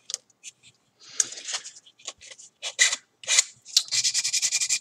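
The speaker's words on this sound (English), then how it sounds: "this is my low grit sandpaper, so it's taking a lot of material away" Coarse, low-grit sandpaper rasps against primer on a prop in a workshop, in irregular scratchy hand strokes that end in a quick run of rapid back-and-forth rubs.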